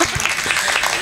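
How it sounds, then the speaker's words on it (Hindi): Applause from a Hindu religious discourse audience, a brief burst of dense clapping with a voice briefly over it, fairly loud and close. "हमारे लिए भी तालियां बजवा दीजिए थोड़ा"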